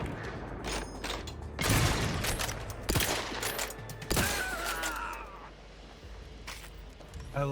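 A pump-action rifle firing in the video game The Outer Worlds 2, several sharp loud shots spaced apart with mechanical clatter between them, amid busy combat noise.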